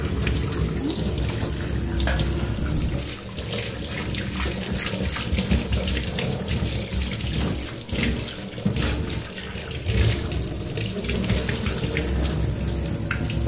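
Water runs steadily from a tap into a kitchen sink during cleaning, a continuous loud splashing rush with small fluctuations throughout.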